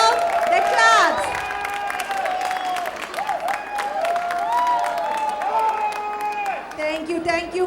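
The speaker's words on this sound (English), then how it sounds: "Another round of applause for the stars who just lit up this stage." Audience applause and cheering fill a dance academy stage show for the departing performers, a steady wash of clapping from a large crowd, loud and sustained throughout.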